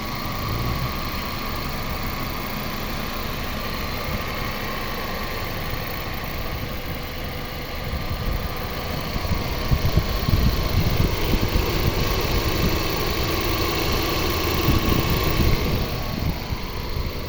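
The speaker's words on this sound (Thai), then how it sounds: "คุณลูกค้าลองฟังเสียงเครื่องนะ" A Toyota Vios 1.5 E VVT-i car engine idles with the hood open, a smooth, quiet, steady hum with a faint high whine, getting slightly louder and rougher partway through, with no talking.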